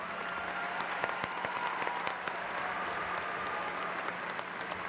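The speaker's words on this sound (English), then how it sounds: "Let's give our top 10 another round of applause." Applause from a high school graduation audience, a steady wash of many hands clapping with sharper individual claps standing out, moderately distant and filling the whole stretch.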